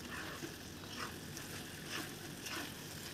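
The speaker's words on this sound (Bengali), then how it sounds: "এবার আমি ধীরে ধীরে সবজি আর চাউমিনগুলোকে আস্তে আস্তে ধীরে ধীরে ভেজে নিচ্ছি।" Vegetables and egg chowmein noodles fry slowly in a pan, with a continuous sizzle and regular soft stirring scrapes and no talking.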